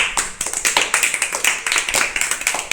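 Children in a classroom clap together in a quick, fairly regular rhythm of sharp hand claps, close and loud, with no talking over them.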